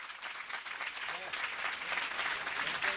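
An audience at a Jain religious honoring ceremony applauds steadily, with voices talking underneath the continuous clapping.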